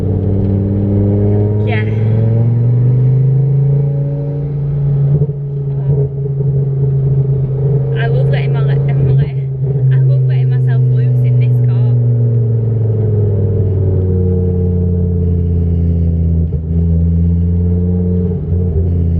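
Modified Ford Focus ST accelerating hard under turbo boost from 0 to 70, a loud engine drone climbing through the revs with gear-change dips, while someone talks over it.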